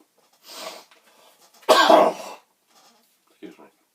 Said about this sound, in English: Seem to have a wee bit of a cough still after this week of boosters.